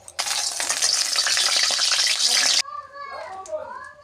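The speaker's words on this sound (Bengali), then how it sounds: "কড়াই গরম হয়ে গেছে, পরিমাণ মতন তেল দিলাম ফুলকপিটা ভাজার জন্য।" Cauliflower frying in hot oil in a wok, a loud close crackling sizzle that runs steadily for a couple of seconds, then cuts out, leaving fainter kitchen sounds and a voice in the background.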